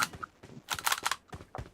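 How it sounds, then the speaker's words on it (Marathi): Gunfire in a 2v2 video game match comes as a quick burst of short, sharp crackling shots, several in rapid succession, close and moderately loud. "मी 3 गोळ्या मारतोय तुला, हेड मारतोय"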